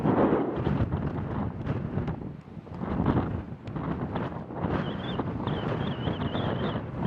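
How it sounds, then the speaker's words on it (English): Strong wind roars and buffets the microphone in continuous gusts, loud and close, on an exposed rocky island, with no other clear sounds. "it's a windy place"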